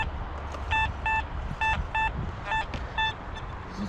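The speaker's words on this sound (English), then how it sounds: "we got the XP Deus 2 and we're running what's called the Nero program, which is a two-tone with a high tone." An XP Deus 2 metal detector on its Nero two-tone program gives a repeated series of short, clear high beeps in a quick rhythm, sounding in pairs and triplets outdoors over a soft background.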